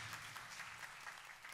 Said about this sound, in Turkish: Alkış gelsin Şehzade Sultan'a